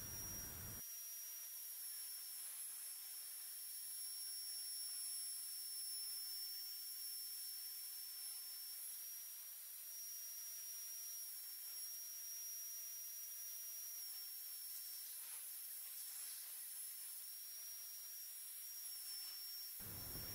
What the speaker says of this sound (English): It is cutting at a depth of 5mm per pass